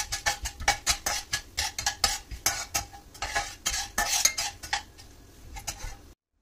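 A utensil stirs fenugreek seeds, mustard seeds and a dried red chili frying in a pan, making a rapid, rhythmic series of metallic scrapes and clinks over a soft sizzle, up close and continuous until it cuts off abruptly.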